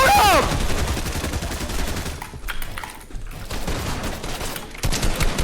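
Rapid bursts of gunfire in the Fortnite video game, repeated close shots crackling in quick volleys across the whole stretch, with brief lulls between them.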